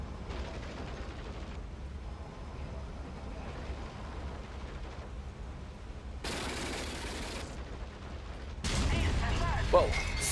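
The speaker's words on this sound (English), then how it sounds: "the AI gunner took care of the job. I don't know what he was shooting at" Tank machine gun fire from an AI gunner in IL-2 Great Battles Tank Crew, moderately loud bursts of automatic fire over a steady low engine rumble, with a heavier burst near the end.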